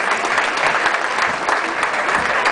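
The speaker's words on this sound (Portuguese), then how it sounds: "Vamos aplaudi-los também." An audience claps for a church music ministry at a gathering, a continuous, full round of applause from many hands, fairly loud and even, with no talk over it.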